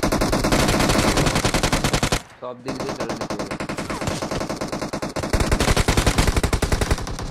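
Rapid automatic gunfire from the mobile battle game PUBG Mobile rattles continuously, close and loud, with a brief pause before bursts resume; someone speaks briefly over the shooting.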